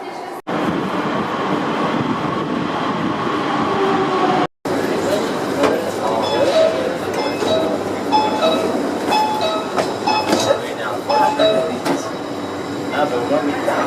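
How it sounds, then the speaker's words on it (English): An Isfahan metro train runs underground, a steady loud rumble of wheels and motors with clicking rail joints and brief squeals, interrupted by a short dropout, and faint talk in the carriage. "just going into the Isfahan metro"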